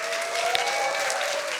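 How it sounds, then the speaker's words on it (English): Warm audience applause at a science slam event as the next speaker comes down the stairs, an even wash of many hands clapping, steady and fairly soft, with a faint voice or tone held beneath. "Give him a warm round of applause."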